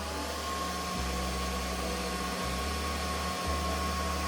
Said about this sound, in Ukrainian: Давайте ще під'єднаємо фен. Побачимо, скільки споживає фен. Вмикаємо.